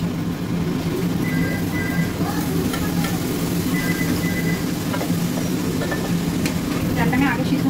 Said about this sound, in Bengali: এই কাঁচা মাছের মাথাটা দিয়ে, এবার আমি ডালটা দিয়ে দেবো